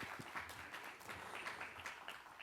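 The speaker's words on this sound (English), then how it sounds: "You can clap." Guests at the University of Ottawa's first Black graduation celebration clap, a faint, scattered patter of hands with uneven rhythm heard from a distance over a quiet room.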